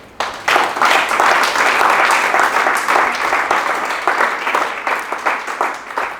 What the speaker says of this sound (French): Des acclamations nourries pour la gloire de Dieu